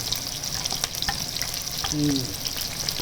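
Sliced onions and green chillies frying in oil for egg curry make a dense, continuous crackling sizzle, close and steady over three seconds, with a brief faint tone near the end.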